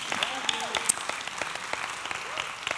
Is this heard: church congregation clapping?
yes